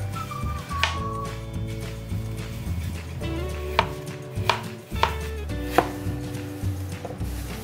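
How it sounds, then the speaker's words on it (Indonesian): A knife finely chops bell pepper on a cutting board, with a run of sharp, close taps at an uneven pace over a low background hum. "Potong halus seperti ini."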